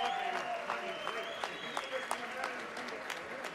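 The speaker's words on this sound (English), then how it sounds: "how about a huge round of applause for these two amazing" A boxing arena crowd applauds two fighters after a bout, faint and distant sustained clapping with cheering, while a ring announcer's voice carries over it.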